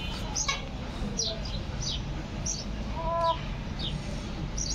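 Chickens in a dirty coop on a rooftop, giving several short clucks and calls spread across a few seconds over a steady low background hum.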